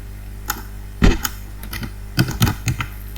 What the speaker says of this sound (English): I'm going to type it.